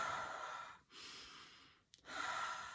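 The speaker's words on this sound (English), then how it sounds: "to consciously breathe" A person takes slow, deep breaths, three long airy inhalations and exhalations separated by short pauses, close and fairly quiet.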